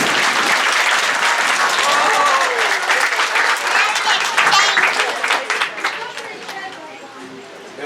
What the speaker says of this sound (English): let's give Walter here a round of applause